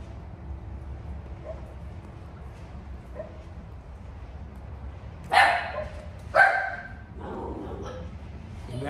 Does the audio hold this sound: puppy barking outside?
yes